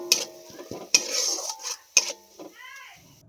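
A spoon scrapes and clinks against a frying pan as turmeric and chili powder are stirred with a little water, with a soft sizzle between a few sharp metallic knocks, close and fairly quiet.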